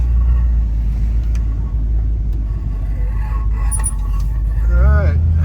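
Low, heavy engine rumble from a 1966 Ford Mustang with an automatic transmission as it is shifted into drive and pulls away, loud and close, with a brief voice near the end.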